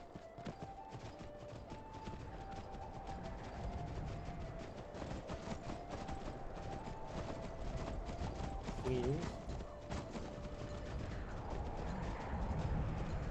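Horse hooves clip-clopping at a steady riding pace in the Skyrim video game, a continuous rhythmic patter under game music and ambient sound, with people talking over it.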